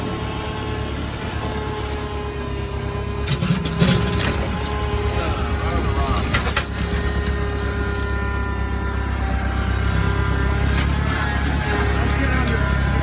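A tractor's engine rumbles steadily at close range as it drives back in at a desert lot full of rusty old cars. The motor drone holds fairly even throughout, with a few knocks and clanks.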